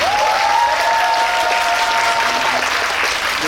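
Steady, dense audience applause fills the room at an audience talk session after a screening of the film 366 Days. The applause is loud and continuous, with a faint sustained whistling tone over it and no speech.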